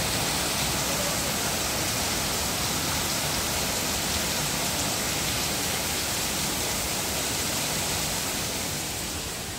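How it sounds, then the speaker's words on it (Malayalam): Steady heavy rain falls in a dense, unbroken hiss that holds at the same loud level throughout, with no voices heard. "കാരണം ഫുൾ മഴയാണല്ലോ"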